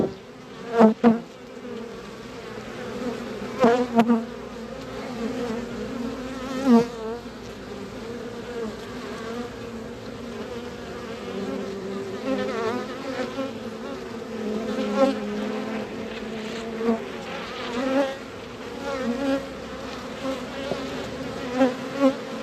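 Honey bees buzz steadily at an open hive with capped brood comb, a dense close hum with individual bees droning past the listener, and no talking.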